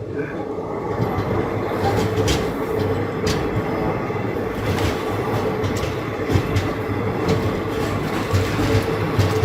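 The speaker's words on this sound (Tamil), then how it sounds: "அங்க ஒரு ட்ரெயின் டிபார்ச்சர் ஆயிட்டு இருக்கு" A train pulls out from a platform at Dharmavaram railway station in Andhra Pradesh, its steady rumble and wheel clatter continuous and fairly close throughout, with a voice talking over it.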